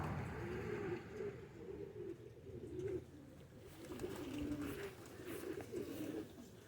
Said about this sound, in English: It's got a lot of pigeons.